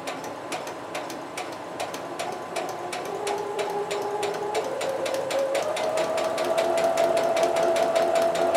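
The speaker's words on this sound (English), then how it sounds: "gently press down on the gas pedal and the machine will start going forward" A sewing machine stitching fabric forward: a steady rapid ticking of the needle close by, with a motor whine that rises and speeds up as the machine accelerates.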